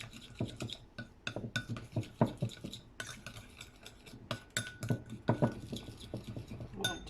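A spoon stirs lemon juice into icing sugar in a bowl, making irregular scraping, clinking strokes in quick uneven bursts, close and fairly quiet, with no talk.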